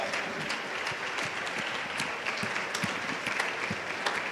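Conference audience at a summit stage event applauds steadily and continuously, a dense wash of many hands clapping with occasional sharper claps standing out, moderately loud throughout.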